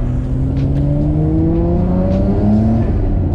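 A Nissan Skyline R34 GTR with twin turbos and a twin-plate clutch revs close by, engine tones rising steadily as the turbos spool, loud and unbroken with no talk.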